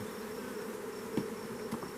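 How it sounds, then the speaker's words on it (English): Honeybees buzz steadily around hive supers with outer boxes and partly drawn comb, a dense close hum with individual bees droning past now and then. "There's even some bees on these outside supers, although they're not really drawing out the comb yet."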